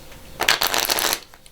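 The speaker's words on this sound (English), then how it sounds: "I'm going to give them a shuffling and a cut," A deck of playing cards is riffle-shuffled in one close, crisp burst of rapid fluttering clicks lasting under a second, then it falls quiet.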